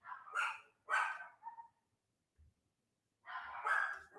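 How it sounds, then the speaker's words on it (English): Dogs bark at home in short bursts, a pair of quick sharp barks followed by a pause and then another cluster, fairly close and loud with nothing else around them. "My dogs are barking."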